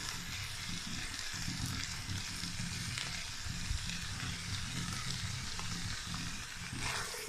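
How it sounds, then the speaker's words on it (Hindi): Capsicum and cabbage frying in a pan for vegetable fried rice, a steady loud sizzle with faint stirring scrapes throughout and no talking. "इनको थोड़ी सी देर के लिए फ्राई करेंगे।"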